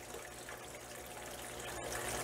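Water trickling and splashing steadily in an aquarium waterfall tank, a soft, continuous close wash of sound with no voices.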